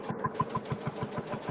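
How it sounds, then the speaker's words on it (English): A two-stroke diesel engine running at a steam event, a close, loud, even rhythmic chugging of regular thumping beats, no talk. "it's a 2-stroke diesel actually"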